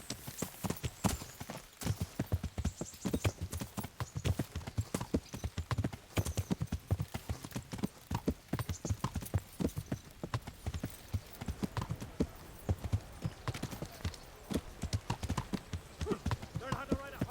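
Horse hooves clip-clop steadily in a quick, regular rhythm while riding in the video game Kingdom Come Deliverance, played in hardcore mode; the clopping is close and continuous, with spoken voices mixed over it.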